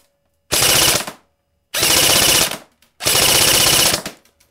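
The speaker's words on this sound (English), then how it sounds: "Let's see what kind of pattern the full auto fire gives us." A KWA KM4A1 second-generation airsoft carbine fires three loud full-auto bursts, each about a second long with short pauses between, close by and with no talk.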